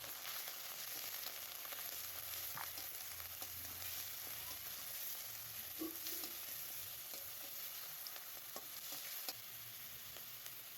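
Onions frying in a pan while being stirred for a rohu fish curry, giving a steady low hiss of sizzling oil with faint scraping stirs, no one speaking.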